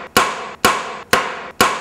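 An auction gavel strikes four times at an even, steady rhythm, each sharp wooden knock loud and close with a brief decay, no voices present.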